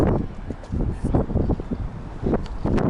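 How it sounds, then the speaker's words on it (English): Gusty outdoor wind buffets the microphone in uneven low rumbling bursts, rising and falling loudly for the whole stretch. "it's a bit windy out"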